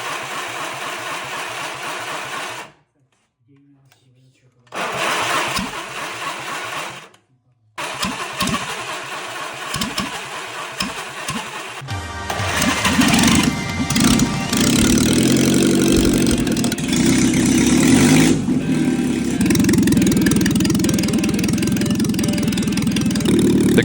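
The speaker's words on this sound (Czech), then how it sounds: "Tak je to tam, motor startuje" Restored vintage car engine being started for the first time after an oil top-up, cranking with short gaps and then catching into a loud, steady idle that runs continuously up close.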